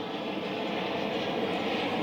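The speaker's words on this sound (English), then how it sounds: "Aeroplane always comes over." A propeller or jet aeroplane passes overhead above a garden allotment, a steady loud droning roar with a faint hum that holds evenly across the whole stretch.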